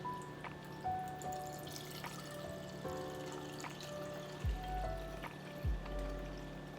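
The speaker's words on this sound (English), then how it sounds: "now we're going to strain it off into my pour over coffee filter here" Faint, sparse drips and trickles of brown sugar and pineapple infused rye whiskey straining through a pour-over coffee filter, with a few soft irregular drops over a quiet hum.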